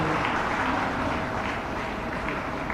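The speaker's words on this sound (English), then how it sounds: "Please give them applause to great applause." Steady, fairly faint applause from an audience at a school's centenary celebration, a continuous wash of many hands clapping throughout with no clear breaks.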